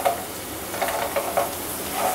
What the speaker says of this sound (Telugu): ఈ పల్లీలు పచ్చివాసన పోయే వరకు వేయించుకోవాలి